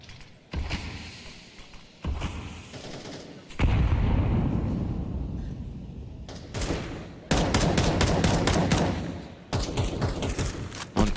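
Gunfire in a Counter-Strike match fills the clip in bursts, with rapid rifle fire, single sharp shots and crackling volleys separated by brief lulls, loud and close, with no voices heard.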